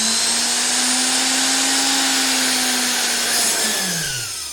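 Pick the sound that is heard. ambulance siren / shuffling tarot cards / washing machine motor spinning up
washing machine motor spinning up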